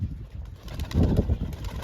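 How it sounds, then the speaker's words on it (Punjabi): A pigeon coos nearby, a couple of low, throaty rolling calls rising in the middle of the short stretch. "ਇਹਦਾ ਬਹੁਤ ਸਿਆਣਾ ਕਬੂਤਰ ਯਾਰ"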